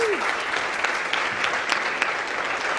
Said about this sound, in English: So give them a round of applause, everybody.